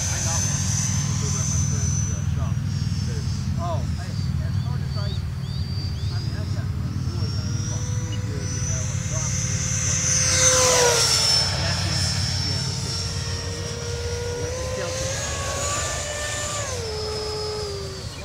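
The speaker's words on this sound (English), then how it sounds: "The slow flight is just crazy on this airplane." Electric RC model F-16 jet flying slowly at high angle of attack, its ducted fan giving a steady rising and falling whine that swells into a brief loud pass, with wind noise and talk over it.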